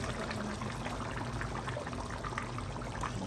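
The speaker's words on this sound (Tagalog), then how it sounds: "Buhos ko na itong" Coconut milk poured into a pot of laing, a steady liquid pour and trickle heard up close and moderately quiet, continuous throughout with no talking.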